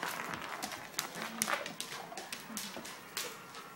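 A Great Dane whimpers and yips in short, uneven bursts after being given ice, with soft shuffling and movement between the cries at close range.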